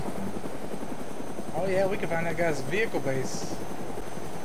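Helicopter flying in the video game DayZ, a steady close rotor drone running throughout while people talk over it.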